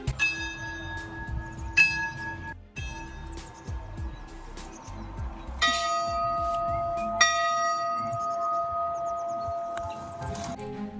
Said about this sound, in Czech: Ve věži kostela se nachází 3 zvony, které místním obyvatelům i v současnosti oznamují čas.